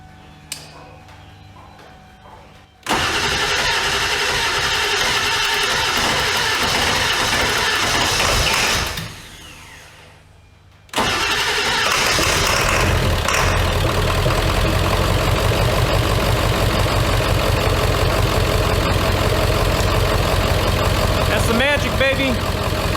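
A 7.3 Powerstroke diesel truck engine fitted with an E-Fuel kit cranks briefly, then fires and settles into a loud, steady rattling idle, with a short drop in sound midway before it resumes running.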